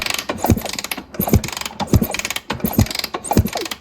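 A hand ratchet clicks in quick repeated bursts while removing the spark plug from a Honda CR250 two-stroke engine, close and fairly quiet, with a steady rhythm of short metallic ratcheting strokes.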